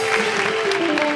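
Studio audience applause on a Pakistani comedy talk show, a steady wash of clapping that holds evenly for the whole moment without any voices on top.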